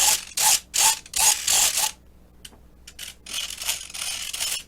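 Servo buzzes from an E-flite UMX Pitts micro RC airplane as its ailerons move: several short, close whirring bursts, a pause with a couple of faint ticks, then a longer run of buzzing.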